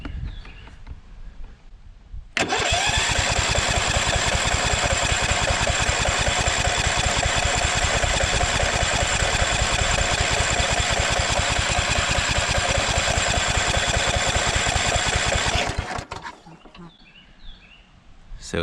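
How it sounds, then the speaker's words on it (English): A Kohler Courage 20hp engine on a Craftsman DYT4000 lawn tractor cranks over steadily for about thirteen seconds, a loud, close, rhythmic starter churn that starts and stops abruptly without firing. "we'll go ahead and crank it over here for a minute and see if it draws up fuel or not"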